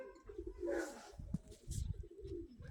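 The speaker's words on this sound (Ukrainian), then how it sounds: "Чуються вони. Ото дурні голуби." Pigeons coo softly in the dark, with several low, throaty calls and a few faint chirps close by.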